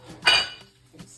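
A fried egg slides off a pan onto a plate, giving one short clink of cookware against crockery followed by a fainter second tap, close and clear with no talk.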